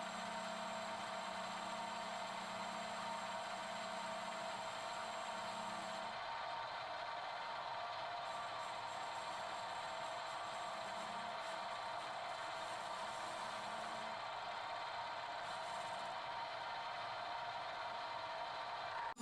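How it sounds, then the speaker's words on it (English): A lathe or machine tool cuts the rim of a cast flywheel for a Reeves Unicorn steam engine, a steady mechanical hum and whine running throughout at low level, with a low drone that fades out partway. "This clip shows the rim of the flywheel being machined."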